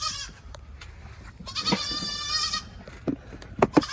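Penny, a farm goat, bleats loudly nearby in a drawn-out wavering call, with shorter bleats and bumps around it.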